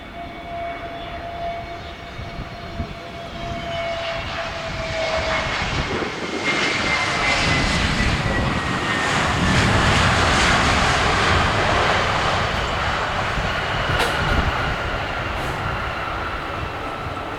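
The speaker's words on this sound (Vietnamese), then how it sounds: "Và bây giờ mời mọi người chiêm ngưỡng pha hạ cánh của chiếc máy bay này." A Sun PhuQuoc Airways Airbus A320neo lands, its engine roar swelling from a whining approach into a broad, loud rumble that peaks as it passes close, then slowly fades.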